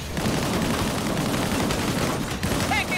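Dense, continuous video game gunfire in Disintegration, a sustained rattle of shots and impacts running through the whole stretch at steady loudness.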